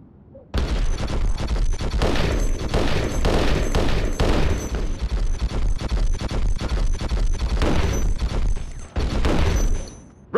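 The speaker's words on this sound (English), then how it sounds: "I want you to order your men to open fire" Squad rifle fire in Conflict: Desert Storm rips through a training range at targets, loud sustained bursts and overlapping shots for about eight seconds with a brief pause near the end, no talking.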